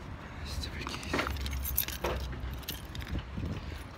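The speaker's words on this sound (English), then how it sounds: "Stupid keys." Car keys jangle and rattle in short bursts up close, with a person talking over them.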